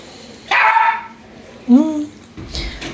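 A dog barks twice at close range, first a longer, rough bark and then a sharper, higher one a second later, with some background noise.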